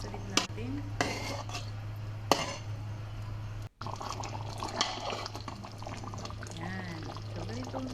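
Chicken orzo pasta with Tabasco stirred in a pan, with a spoon clanking and scraping against the cookware in a few sharp knocks, then softer stirring and faint sizzling over a steady background hum.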